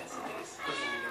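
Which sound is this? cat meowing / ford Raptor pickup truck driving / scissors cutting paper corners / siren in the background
cat meowing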